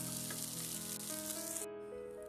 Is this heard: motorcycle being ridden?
no